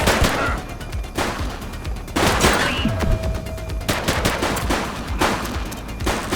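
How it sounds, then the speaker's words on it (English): Rapid gunfire in a shootout from The Precinct, repeated loud bursts and volleys over a rumbling backdrop, close and continuous. "He's shooting!"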